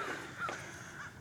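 Crows caw outdoors in a loose group, their calls mostly faint and blended into background noise, with one slightly louder call standing out briefly.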